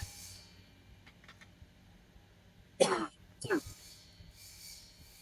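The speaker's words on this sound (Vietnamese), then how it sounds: "đợt này ho quá" A person coughs twice in quick succession, a sharp harsh burst followed by a second throaty cough, fairly close, over a quiet room hum during fan repair work.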